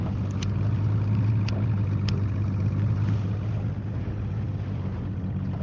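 A Sea Arc fishing boat's engine runs as a steady, close low drone with faint clicks on top, unbroken for the whole stretch and with no one speaking.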